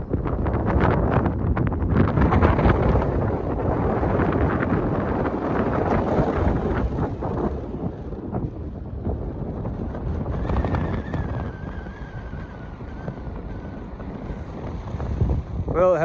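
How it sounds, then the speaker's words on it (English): Strong wind on a mountain summit near South Lake Tahoe roars across the microphone in steady, heavy gusts, a constant loud rush with a faint thin whistle rising briefly near the end. "It's a little bit windy."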